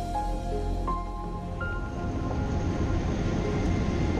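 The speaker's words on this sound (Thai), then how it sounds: "รถไฟขบวนสินค้าวิ่งผ่านพอดีฮะ" A freight train rumbles through a 1,200-metre rail tunnel, a loud continuous roar with squealing wheel tones near the start that fade into steady clattering.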